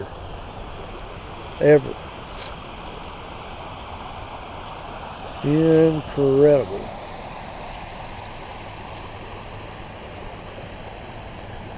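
Floodwaters of the French Broad River in Arden rush in a steady broadband roar that fills the whole clip, with a voice speaking briefly over it twice.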